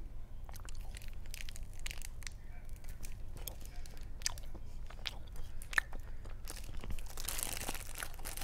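Crunchy carrot-flavoured Easter sweet being chewed and bitten close to the mic, a steady run of crackling crunches and soft mouth sounds with brief sharper bites, no talking.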